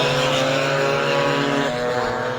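Racing scooters at a stock scooter race at Lydden Hill, a loud, high-revving engine drone passing close by, steady and continuous with a slight pitch shift.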